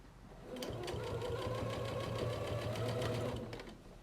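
A sewing machine stitches binding down onto a quilt, running as a steady, continuous mechanical whir with a fast regular needle rhythm, close and fairly quiet, with no talking.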